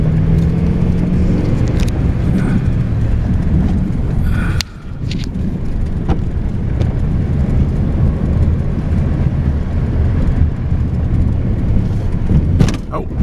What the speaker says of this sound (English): I'm going to drive to the end of the canyon.